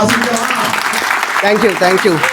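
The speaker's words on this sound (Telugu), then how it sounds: "ఒక్కసారి అందరం క్లాప్ ఇచ్చారు." An audience at a joint business collaboration meeting in Vijayawada claps together, a brief burst of dense applause that soon gives way to a voice talking over it.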